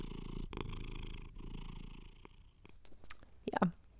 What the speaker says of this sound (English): We're just purring away